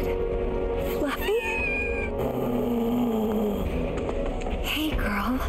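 A cluster of cats in Final Fantasy 7 Rebirth meows and wails in a few drawn-out, pitch-bending calls spread across the moment, heard over continuous in-game ambience and music.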